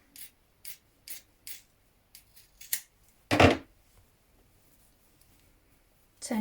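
Scissors snip into sewn jacket fabric from the wrong side at the hem, close and crisp: four evenly spaced snips, a few lighter quick cuts, then one longer heavier cut before a quiet pause.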